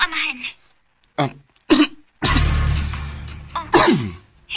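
A few short coughs and throat-clearing bursts, close by, followed by a longer rough, breathy noise and another cough.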